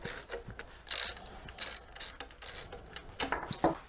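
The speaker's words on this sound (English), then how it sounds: "I just need my 1/2-inch nut or wrench here to hold the top." A 1/2-inch wrench ratchets a nut on a Kohler 5E generator during repair work, with several quick, close bursts of clicking pawl strokes and short pauses between them.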